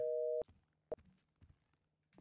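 A telephone busy signal in the GTA RP role-play game: a loud steady tone that cuts off, then one short repeat beep amid faint background noise.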